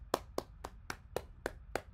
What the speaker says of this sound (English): Everybody clap it up, man.